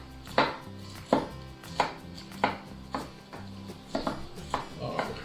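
A knife chops an onion into thin slices on a board, making about nine crisp, evenly spaced thuds at a brisk rhythm. The chopping is close and clear, with no talk over it.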